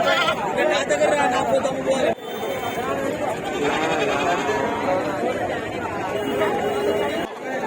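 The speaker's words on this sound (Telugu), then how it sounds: "పొట్టేలు చూడండి" Ram bleating at a busy goat and sheep market in Kothagudem, its calls mixed into a steady crowd hubbub with people talking and haggling nearby.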